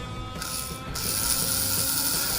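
A slot car chassis motor, freshly oiled and powered by a transformer, whirs steadily with a high, buzzing mechanical whine and faint gear clatter, close and continuous.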